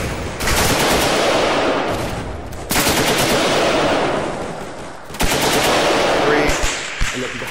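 Sustained bursts of automatic gunfire in the shooter game Insurgency come in three long volleys with brief gaps and a few single shots near the end, loud and close.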